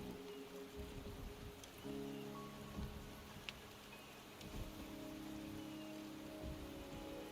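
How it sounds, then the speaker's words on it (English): Rain falls steadily in Wuthering Waves, a soft, continuous wash of drops with faint low rumbles and a few scattered ticks, at a low, even level with no talking. "The rain is subsiding"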